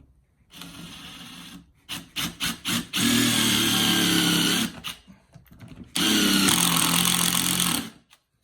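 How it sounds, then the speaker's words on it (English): A power drill pre-drilling oak wood whirs in bursts: a brief start, several short rapid pulses, then two sustained loud runs separated by a pause, close by. "Pre-drill the hole too? yeah, because I want the countersink."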